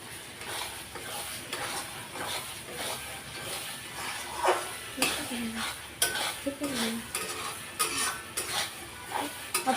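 Tomatoes being stirred in a cooking pot for desi chicken, a spoon scraping and clinking against the metal with soft sizzling underneath, steady and close throughout.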